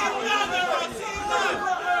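A London crowd at a cage fight between Emrah Sonmez and Adam Meskini, a steady dense roar of chatter and cheering that holds loud and continuous throughout with no distinct voices standing out.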